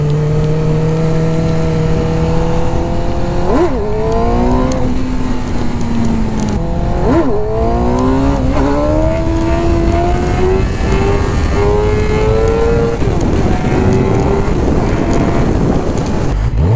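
A car engine revs loudly in rising and falling sweeps, steady and close, with wind rushing over the microphone throughout and no voices.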